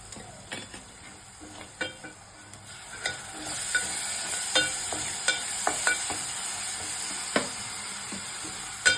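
Ginger-garlic paste frying in a pan, a continuous sizzle with repeated scraping and clinking as a spoon stirs it, close up.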